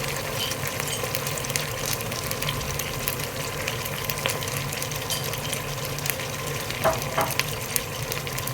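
Mutton with garlic and ginger paste fries steadily in a pot, a continuous low sizzle and bubbling with occasional stirring scrapes, close and even throughout.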